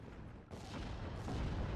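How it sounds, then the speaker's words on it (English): Off-map artillery strike in the game Steel Division exploding on a Kubelwagen munition truck, a sudden heavy boom that swells into a sustained loud roar of rumbling blasts, with no voices. "The off-map did actually hit the Kubel munition and blow it up"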